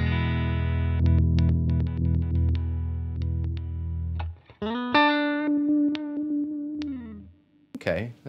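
Electric guitar played through effects, sustained distorted notes, then stuttering single notes cut on and off by flipping the pickup selector with one tone control set to zero, loud and close.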